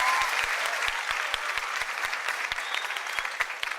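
A television talent show audience applauds performer Aboubacar Keïta, a bright, sustained wash of clapping from a large crowd with sharp individual claps standing out near the microphone.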